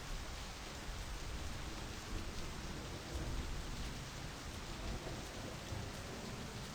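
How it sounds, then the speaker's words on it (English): A thunderstorm in My Summer Car sends heavy rain pouring down in a loud, constant hiss, with low thunder rumbling beneath it throughout. "I don't think you want the sound of the storm fairly loud in my ears."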